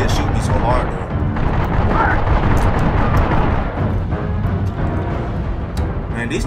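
Gunfire in the video game The Darkness, a dense, roaring barrage with scattered sharp shot cracks in the second half, played loud under someone talking.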